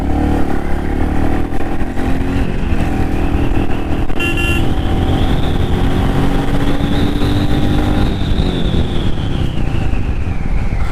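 A Royal Enfield Meteor 350 motorcycle rides through city traffic in third gear, its engine droning steadily and close, with wind rush and a brief horn toot midway.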